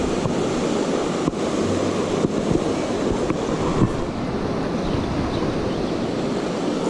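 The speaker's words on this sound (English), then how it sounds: "the water is moving really, really fast" Steady, dense rushing of a fast-flowing river fills the whole clip, a continuous broadband roar with no pauses and no voices.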